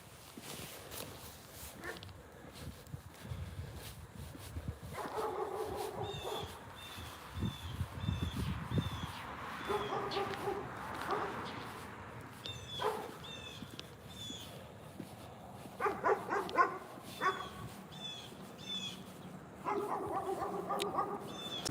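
A dog outdoors on a sunny walk gives a few scattered barks and yips at moderate distance, with footsteps and outdoor ambience in between and no talking.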